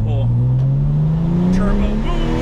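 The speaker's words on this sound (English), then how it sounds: "we're gonna go on boost here to see what it's like. All right, second gear pull." A manual 800-horsepower Porsche 997 Turbo pulls hard in second gear on boost, its engine note climbing steadily in pitch as it revs from inside the cabin, with brief turbo whooshes and a voice speaking over it.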